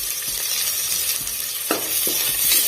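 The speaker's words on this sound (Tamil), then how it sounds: "நல்லா வதக்கிக்கோங்க." Tomato sautés in a pan for mutton gravy with a steady hiss of frying, broken by a few scraping strokes of a spoon stirring against the pan.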